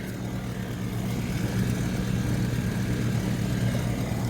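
A Rheem central air conditioner's outdoor unit runs with a steady, dense mechanical hum and a low tonal drone, heard close and continuously with no break.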